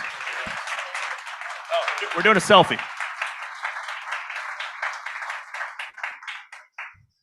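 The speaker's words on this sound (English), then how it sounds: "Let's give them a round of applause." A small audience at an economic summit panel claps and cheers for several seconds, with a few voices calling out over the applause before it tapers off.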